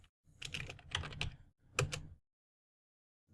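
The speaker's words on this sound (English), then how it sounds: "so just type right here NSLookup facebook.com" Quick close-up keyboard typing of a command into a computer, fast clustered keystrokes in two bursts, then silence, with no voices.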